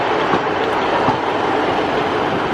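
A Class 158 diesel train rumbles through Leeds station, a steady, loud, close roar of engine and wheels with faint rhythmic clicks over the rails.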